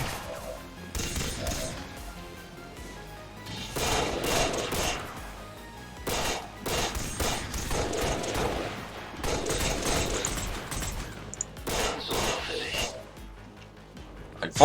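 Gunfire in the turn-based strategy game XCOM: War of the Chosen: repeated bursts of shots and impacts spread across the clip, moderately loud, alternating with a voice talking over the action.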